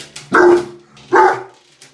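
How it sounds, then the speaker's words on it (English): A big dog barks twice during a medicated bath, two close, loud, rather soft and wimpy woofs spaced under a second apart with quiet between them. "that was a wimpy bark for such a big guy"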